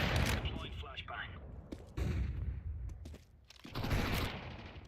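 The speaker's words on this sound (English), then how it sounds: "Throwing flashbang. Deploying flashbang." Loud blasts and gunfire-like bangs burst through a tactical shooter video game match after a flashbang is thrown, with several sharp hits close by as players talk over the action.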